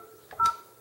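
A short DTMF keypad tone sounds on an IP Office desk phone while dialing an extension, a single brief close beep after a faint click, on a quiet line.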